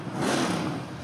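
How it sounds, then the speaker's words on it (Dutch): A Dakar rally car's engine roars in a brief, loud burst, a dense rasping revving sound heard indoors at a live show. "hij is de Dakar-auto aan het opstarten."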